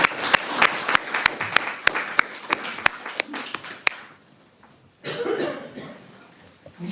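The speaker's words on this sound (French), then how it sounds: "recevez l'applaudissement" A small audience gives slow, evenly spaced, sharp hand claps for about four seconds. The clapping then fades into quiet room murmur and rustling.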